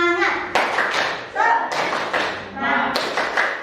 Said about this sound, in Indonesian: Bisa tepuk semangat nggak?